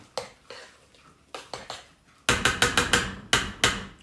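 A spoon clanks and scrapes against a bowl while mayonnaise is stirred into mashed potatoes, a run of sharp, irregular knocks that grow louder and faster partway through.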